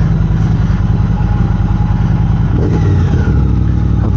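A 2022 Triumph Speed Twin motorcycle engine running nearby, a loud steady low rumble that deepens and thickens partway through as the revs change.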